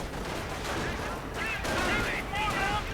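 Gunfire in a video game battle with riflemen, a suppressed Panzer and a half-track: dense crackling shots and explosions over loud continuous battle noise, with brief voice fragments mixed in.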